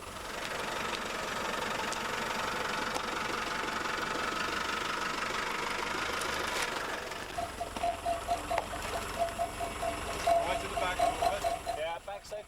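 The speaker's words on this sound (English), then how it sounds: "Richard Barr, a Camel Trophy veteran, monitors the safe crossing of the Discovery" A Land Rover Discovery crosses a narrow log bridge in the jungle. Its engine runs at a low, knocking idle, then turns into a rhythmic pulsing chug as the vehicle creeps forward.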